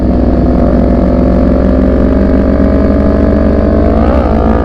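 A Benelli TRK 502X motorcycle fitted with a Daivo exhaust drones loudly and steadily while being ridden, the close engine note holding even before a brief rise in revs near the end.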